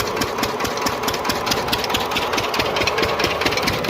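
A diesel water pump engine chugs steadily nearby in a chickpea field, a loud rapid knocking rhythm that holds constant throughout.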